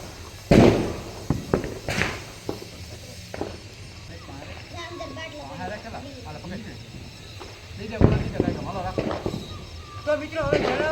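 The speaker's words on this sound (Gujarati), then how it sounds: "ચાલો મિત્રો ફટાકડા ફોડો હાલો" Diwali firecrackers go off outdoors in a few sharp, loud bangs spaced seconds apart. People talk in the gaps between the blasts.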